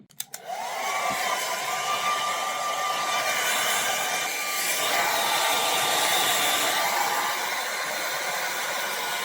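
A hair dryer blows steadily on freshly bleached, toned hair, switching on within the first second and then running as a loud, close, continuous whoosh with a faint whine for the rest of the clip.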